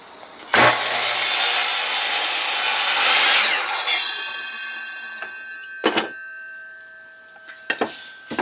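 A saw cuts through stacked pieces of wood at once in a tiny-house workshop: a loud, steady rasp lasting about three seconds, then a few sharp knocks and clanks as the wood settles.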